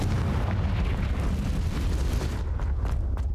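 Confringo explosive spell cast in the Hogwarts Legacy video game, a loud rumbling blast that rolls on as a dense boom, then breaks into a few sharper crackling bursts as it dies away.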